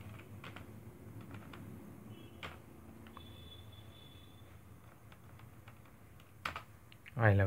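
Keys clatter on a computer keyboard in scattered, quiet bursts of clicks and taps, close but soft, ending in a louder thump of handling noise.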